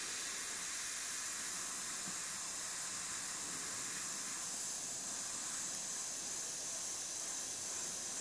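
An airbrush sprays paint in light passes, a soft, steady, even hiss held close and constant throughout, no talking.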